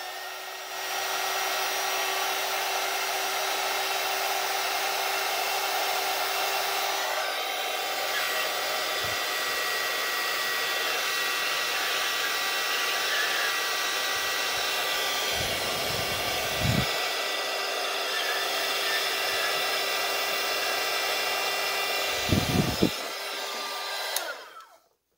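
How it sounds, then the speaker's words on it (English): A heat gun blows onto a papercraft pop-up card, a loud, continuous airy roar like a hair dryer that holds steady for over twenty seconds, with a few faint knocks near the end. "We're gonna use our heat gun."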